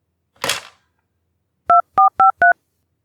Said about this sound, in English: picked up the handset, and redialed the receptionist's number